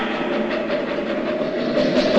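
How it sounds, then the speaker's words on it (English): Train rolling along rails during a tense escape through a forest tunnel, a steady continuous rumble and rattle with faint rhythmic clatter, loud and close throughout with no voices. "Stop that train!"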